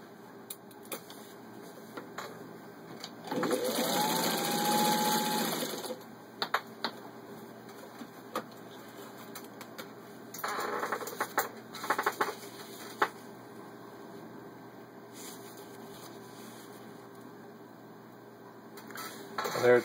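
A vintage 1951 Singer 15-91 centennial sewing machine runs in two close, fairly loud bursts, the first with a motor whine rising in pitch and a rapid stitching chatter. Softer clicks and handling sounds fall between the bursts, with no talk.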